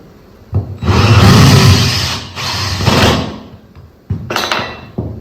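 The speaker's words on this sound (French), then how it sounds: "Donc voilà, je vais percer." A power drill fitted with a hole saw, hammer mode off, whirs loudly in sustained bursts, revving up and easing off twice, then a short grinding rev near the end.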